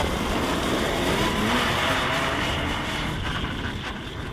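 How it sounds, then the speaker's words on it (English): A Ruffian all-electric snow bike motor makes a broad, steady whirring roar up close, sustained throughout and easing slightly toward the end. "It actually has some motor sounds."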